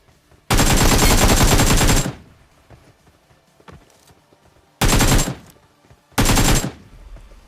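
Close, loud bursts of automatic gunfire in a battle royale shooter: a long sustained volley of rapid shots followed by two shorter bursts, with quieter game ambience and scattered faint sounds in the gaps.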